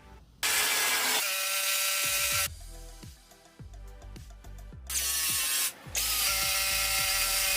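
A loud cordless drill fails to bore in, whirring with a rapid clattering ratchet of slipping gears, cutting out briefly twice before grinding on again, close and continuous.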